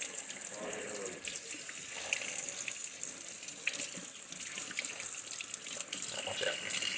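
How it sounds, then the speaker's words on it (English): Tap water runs steadily into a kitchen sink as a fish is rinsed to wash off blood, a continuous close splashing flow with small irregular spatters. "you gotta give him another little rinse to get all that nasty blood off there"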